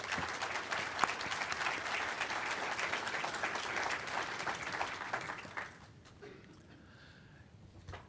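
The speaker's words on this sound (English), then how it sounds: "if you could give a little round of applause for our sponsors" A large indoor audience claps in sustained applause for sponsors at a business showcase introduction, a dense steady roar of hands that tapers off into quieter scattered claps near the end.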